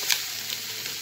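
Minced meat fries with onions in a pan, a steady hissing sizzle at moderate level with a few small crackles.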